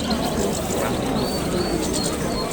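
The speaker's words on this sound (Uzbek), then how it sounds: "Ro'parosa chiroyli qushlar." Birds chirp and coo together at an outdoor bird market, a dense, steady chorus of small calls and soft pigeon coos with no voices.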